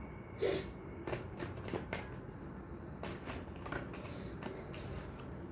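Tarot cards are shuffled by hand during a reading, a run of quick, soft papery riffles and flicks, fairly close and quiet, with no talk over them.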